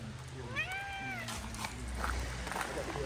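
A single drawn-out cat meow rising and falling, followed by soft background noise.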